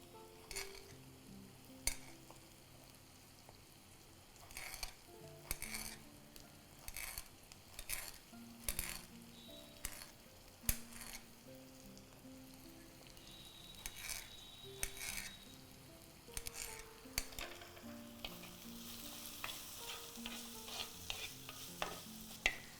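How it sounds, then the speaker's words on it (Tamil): Onions sautéing in a pan, a low continuous sizzle broken by frequent spatula scrapes and metallic taps against the pan, close and fairly quiet. "இந்த வெங்காயம் வந்து வதங்கிட்டு இருக்கட்டும்"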